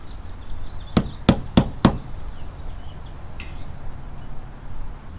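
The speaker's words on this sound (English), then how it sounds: "we'll prep the drill site with my makeshift punch." Four sharp metallic hammer strikes on a makeshift metal punch ring out in quick succession, close and loud, marking a drill site on a 5th-gen Toyota 4Runner roof, followed by a fainter single tap.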